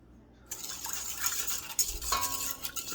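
Quiet stirring of sugar into cake batter in a bowl, soft scraping and clinking of a utensil against the dish in uneven strokes, close and gentle.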